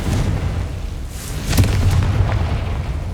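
Confringo spell explosion in the game Hogwarts Legacy, a deep, rumbling boom that swells midway and lingers with a heavy, rolling tail, with no voices.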